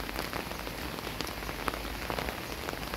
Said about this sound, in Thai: ตอนนี้ฝนก็ตกนะครับ